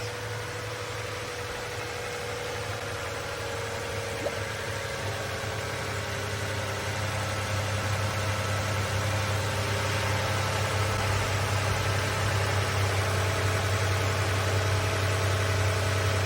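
A Lexus RX engine idles with a steady low hum and faint vibration, continuous and fairly quiet, without any voices.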